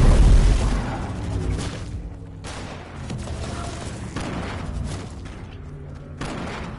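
Several heavy booms and bursts in a video game, grenades going off with blasts spread across the moment, a loud one at the start and more at intervals, with voices faintly present.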